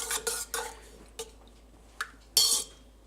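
A spoon stirring a sugar and yeast mixture in a bowl, quiet scraping and clinking in short irregular bursts, close by with no talking.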